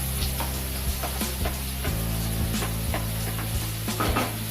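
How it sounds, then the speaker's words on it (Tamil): Green chillies and chopped onions frying in a pan for veg biriyani make a continuous sizzle, with a spatula stirring and tapping at irregular intervals over a low steady hum. "வெங்காயம் நல்லா வதங்கட்டும்."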